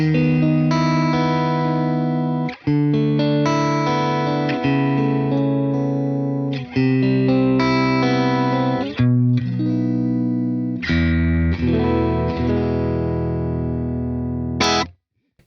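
Electric guitar played through a Tone King Imperial tri-tube preamp on its clean channel, with no effects, giving a bright Fender-style clean tone. Chords and single notes ring out continuously and up close, with no talking.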